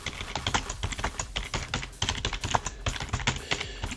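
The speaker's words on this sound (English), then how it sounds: "It's faster if I just type it out." Rapid typing on a computer keyboard, a steady stream of close, clattering key clicks with no pauses or voices.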